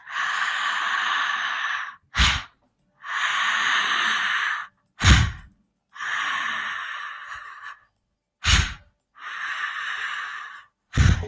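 Slow, deep breaths during a guided breath work session: four long, steady airy inhales or exhales, each broken by a short, sharp burst of breath, close and clear with no talking.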